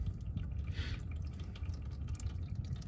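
Motor oil from a warm Chrysler 200 drains in a steady liquid trickle, with faint dripping and a continuous wet patter under a low background hum.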